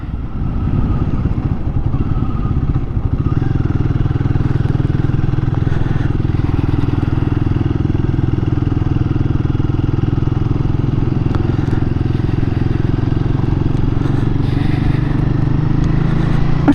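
A Royal Enfield Guerrilla motorcycle ridden on a ride out after its first service, its engine giving a steady, close, low drone that runs unbroken from start to finish.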